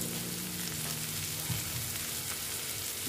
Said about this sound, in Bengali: দিয়ে অল্প আবার একটু ভেজে নিচ্ছি এইগুলোর সঙ্গে